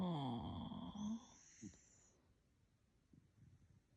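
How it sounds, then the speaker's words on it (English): A sleeping dog snores softly, giving a low wheezy drawn-out breath at the start and then fainter snorts and breaths. The sound is quiet and close, in a still room. "He's snoring."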